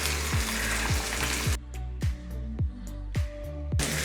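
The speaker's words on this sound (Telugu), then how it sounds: "ముందు మనం ఉల్లిగడ్డలు వేయించుకుందాము. సరే, అల్లం ముక్క కొంచెము అల్లం వేస్తాను." Onions and ginger fry in a pan, a loud continuous sizzle with regular scraping stirs, then a quieter stretch where the stirring strokes stand out at a steady rhythm.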